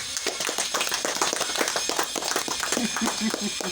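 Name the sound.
audience clapping at kindergarten graduation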